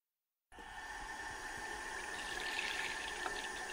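Tap water starts suddenly and runs steadily into a container being filled with water for an experiment, a constant close hiss of flowing water with no talking.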